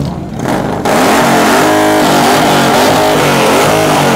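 Kawasaki vehicle engine revving hard at a car sound competition, a loud, sustained roar that swells after a brief dip and holds steady near the microphone with crowd noise underneath.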